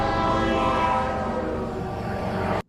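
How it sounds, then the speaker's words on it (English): A video game train rumbles past loud and close, a thick sustained roar with tonal horn-like layers, fading slightly before cutting off abruptly at the end. "Train spotted, waiting for collision."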